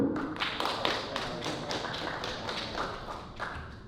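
An audience claps in a steady burst of applause for a favorite album track at an album release party, the dense patter of many hands sustained and fairly even throughout.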